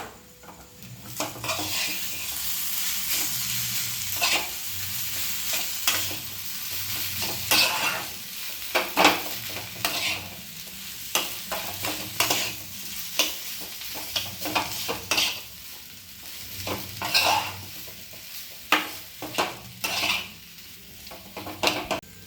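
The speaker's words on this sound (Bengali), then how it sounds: "এক চামচ নুন দেব, দিয়ে আলুটা ভালো করে মিশিয়ে নেব" Steady stirring of a spiced, salted boiled-potato filling for masala dosa in a pan, with repeated spatula scrapes and knocks over a soft sizzle, close and continuous with no talk.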